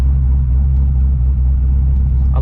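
A 1994 Ford Mustang Cobra V8 idles close by with a loud, steady low rumble that pulses evenly and holds without revving.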